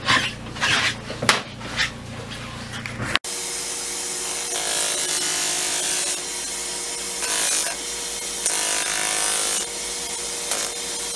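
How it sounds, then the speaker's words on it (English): Sanding a prosthetic socket mold flat to remove pieces sticking up; a steady, loud abrasive rasp runs continuously after a brief burst of scraping at the start, rising and falling slightly in intensity. "for these pieces that are sticking up, just sand it flat."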